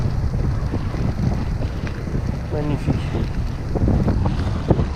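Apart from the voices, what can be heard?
headwind blowing on microphone while cycling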